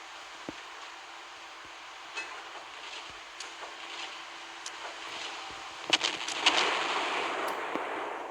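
Naval gunfire from a warship in a World War II-era battleship game, heard as a handful of sharp booms and cracks spread across the stretch, with a louder burst of shots near the end over steady background rumble.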